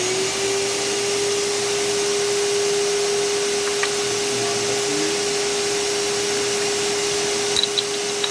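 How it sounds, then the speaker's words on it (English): A shop vacuum runs steadily in a knife-making workshop, a loud constant whine with a strong single tone and airy hiss, broken only by a few faint taps and clicks near the end. "Vacuum on."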